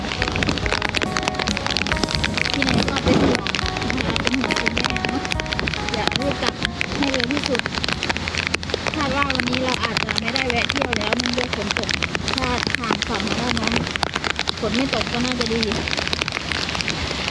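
Loud, dense heavy rain in Laos pouring down and drumming on surfaces, constant throughout, with a voice talking faintly underneath.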